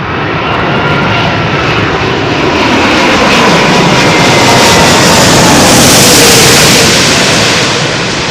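Airbus A380 arriving on runway 27L at London Heathrow, a loud, steady roar of jet engines swelling as it passes close by, with no voices.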